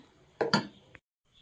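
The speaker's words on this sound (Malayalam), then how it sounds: "ഇതിപ്പോൾ കുറച്ച് കടുക് ചതച്ചിടാൻ പോവുകയാണേ" Mustard seeds crushed for a banana-stem kichadi make two or three sharp, close clinks and knocks of a hard utensil, followed by quiet.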